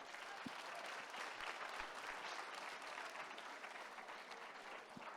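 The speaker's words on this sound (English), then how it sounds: "Thank you for that clap." An audience at a summit session claps steadily for several seconds, a dense, even patter of applause from a large room with no voices over it.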